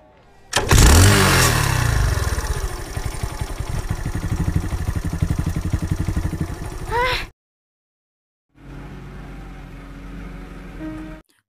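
A motorcycle with a loud open aftermarket exhaust fires up and revs hard with a raw exhaust roar, holds steady, cuts out briefly, then rumbles again.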